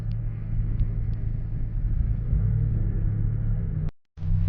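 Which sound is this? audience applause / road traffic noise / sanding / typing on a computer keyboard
road traffic noise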